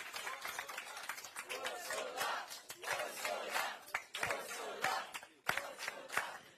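A large crowd at a European election night rally cheers, claps and shouts in waves and bursts, with spoken remarks from a stage mixed in.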